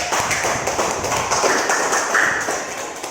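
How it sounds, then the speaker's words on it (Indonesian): Students in a classroom applaud group 1 with a loud, continuous patter of many hands that stays steady and close throughout. "tepuk tangan buat kelompok 1"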